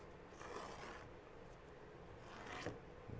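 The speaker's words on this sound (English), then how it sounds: "Pull this tape off." Masking tape peels off a painted canvas in two faint, drawn-out tearing strips, heard close with no talk over it.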